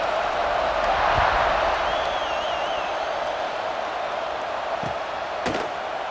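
Stadium crowd in the College Football 26 video game roars steadily as a broad wash of cheering, with a few sharp slams and a whistle-like tone over it.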